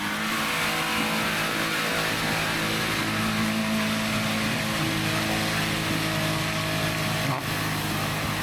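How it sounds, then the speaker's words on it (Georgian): An off-road car on lowered tyre pressure grinds up a steep hill in low gear in rural Kakheti, Georgia, its engine straining at a loud, sustained mid-pitched drone that holds steady throughout, close by and with no talk. "საბურავებში დაწეული წნევით, დაბალი გადაცემითა და მეტი ინერციით ვუტევ აღმართს."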